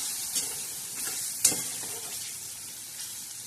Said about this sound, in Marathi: आता हे छान असं आपण हलवून घेणार